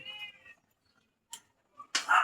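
A cat meows, a drawn-out cry at the start, then a short faint call and a louder, harsher meow near the end, close by with quiet gaps between.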